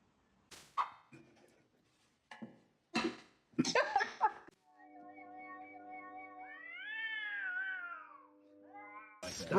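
Cat meowing in a long, wavering, drawn-out yowl with rising and falling pitch, loud and close, following several short bursts of other animal noises and bumps.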